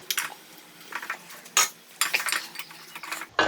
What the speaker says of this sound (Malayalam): ഇതിലേക്ക് നമുക്ക് ചിക്കൻ ഇട്ട് കൊടുക്കാം.